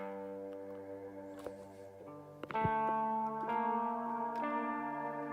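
Frozen guitar texture from a Spitfire sample library, sustained layered tones stacking and shifting in a few stepped changes, quiet and smeared with echo and reverb, with no voices.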